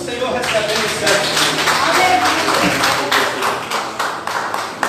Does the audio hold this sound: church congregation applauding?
yes